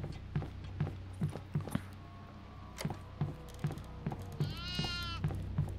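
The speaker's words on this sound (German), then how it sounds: "Und eine Ziege war hier auch." A goat bleats in the horror video game Devour, set in a farmhouse: a short wavering bleat near the end over footsteps and low ambient rumble.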